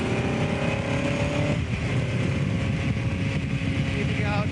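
1959 Cooper Climax race car driven on track, its engine roaring steadily at high revs with gear changes, heard from inside the car under a voice.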